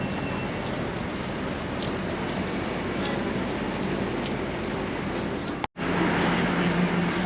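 A dense, steady roar of city and underground noise fills a sunny, cold November day at an entrance to Manor House Underground station on Seven Sisters Road, unbroken except for one brief dropout near the end.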